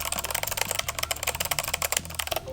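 Fast typing on a Viper V765 mechanical keyboard, a dense run of loud, clicky key strikes recorded up close with no voice.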